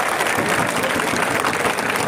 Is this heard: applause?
yes